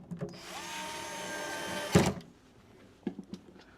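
A small power screwdriver whirs for about two seconds while taking screws out of an electronics box, then stops with a sharp clunk. A few faint clicks and taps from handling follow.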